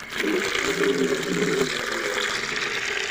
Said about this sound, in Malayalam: ആദ്യം തന്നെ നമ്മൾ കുറച്ച് വെള്ളം നിറക്കുന്നതാണ്.